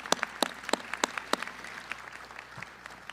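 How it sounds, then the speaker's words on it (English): Scattered applause at a fire division graduation ceremony, with sharp, separate claps that come thick early on and thin out to a few isolated ones. The sound is moderately soft and no one talks over it. "Please give yourself a round of applause."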